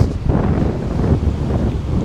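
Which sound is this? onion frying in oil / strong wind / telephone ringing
strong wind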